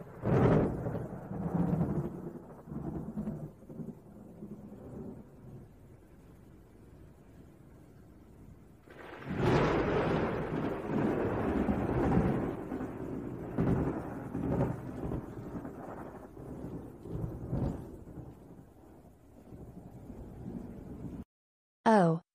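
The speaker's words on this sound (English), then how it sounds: "Oh, it's the thunder." Low rumbling thunder rolls in two long swells, a quieter one followed by a louder, sustained rumble that fades before a brief cutoff.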